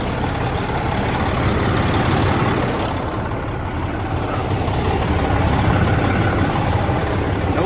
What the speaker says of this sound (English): We're gonna let it sit right here and idle for a little while.